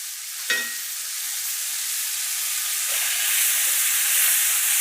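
Pork chops searing in a hot pan give off a loud, steady sizzle right after being flipped, with a brief clatter at the turn and then a dense, continuous hiss that swells slightly, heard up close.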